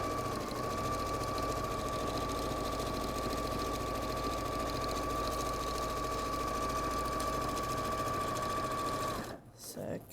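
Close, loud domestic sewing machine running steadily while stitching embroidery on a dragonfly cushion, a continuous whirring hum with a sustained tone, stopping abruptly near the end.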